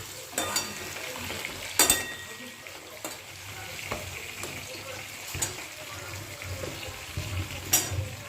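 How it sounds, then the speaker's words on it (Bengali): A pot of rice boils steadily on a home kitchen stove, a faint continuous bubbling with occasional louder pops and clatters. "টকবক টকবক টকবক টকবক করে ফুটছে"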